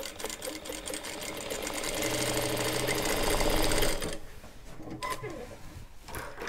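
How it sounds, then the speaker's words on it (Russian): A sewing machine runs steadily for about four seconds, stitching a seam in shirt-dress fabric, then stops, leaving quieter handling noises. "Прокладываем шов."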